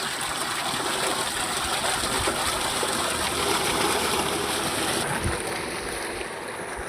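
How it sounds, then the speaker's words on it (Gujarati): Loud, steady rush of gushing water from a running borewell pump, continuous throughout, with a slight shift near the end. "બોર ચાલુ કરી દીધો"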